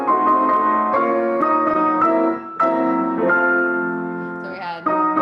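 A keyboard plays a chord progression, a German augmented sixth chord resolving to the fifth, as sustained struck chords changing every second or so, clear and close, with no talk.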